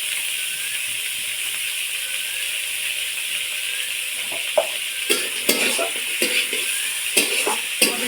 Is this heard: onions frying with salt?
yes